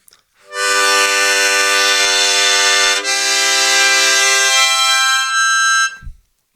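Sustained Hohner Golden Melody harmonica chords, loud and bright, held for several seconds with a brief shift in the middle, then cutting off.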